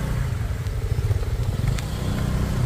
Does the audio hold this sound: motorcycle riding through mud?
yes